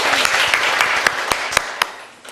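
Seminar audience applauds a speaker being welcomed to the stage, a short burst of scattered, fairly loud hand claps that thins out and fades toward the end.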